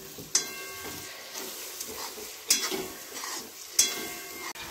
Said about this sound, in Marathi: त्यानंतर मित्रांनो वाटाणा आपण वरतून टाकूयात. आणि छान असा हलवून घेऊयात.